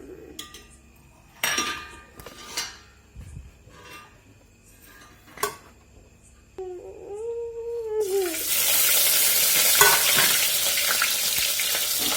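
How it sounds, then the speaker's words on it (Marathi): Ghee heats in a pan for rice kheer and bursts into a loud, steady, close sizzle partway through, after a quieter stretch of scattered utensil clinks and a short tonal whine. "बघा तूप टाकणारे"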